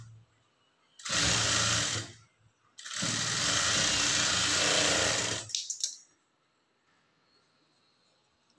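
An electric sewing machine stitches a blouse lining in two loud, steady whirring runs, a short pause between them, then a few brief stuttering stitches before it stops.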